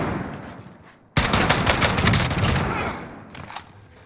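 After a quiet second, a loud close burst of rapid gunfire erupts in Call of Duty: Warzone and fades into trailing shots.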